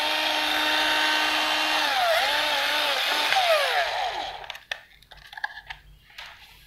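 A 12V cordless drill with a 10 mm auto-lock chuck whirs steadily and loudly up close, its motor pitch dipping and wavering as the trigger is eased, then spinning down to silence broken by a few handling clicks.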